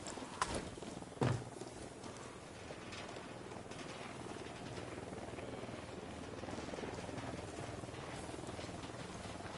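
A helicopter in the video game Ghost Recon Wildlands drones steadily with a broad rotor wash that fills the scene, holding at an even level apart from a couple of brief knocks near the start.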